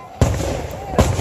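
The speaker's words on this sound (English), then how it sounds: "those are the flash bombs" Flash bomb fireworks at a July 4th celebration go off in two loud, sharp bangs about a second apart, each followed by a short crackling rumble, close by.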